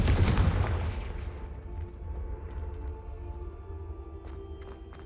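A Confringo blasting spell goes off in the Hogwarts Legacy video game, opening with one loud, close booming explosion that fades into a lingering rumbling tail and soft ambient tones.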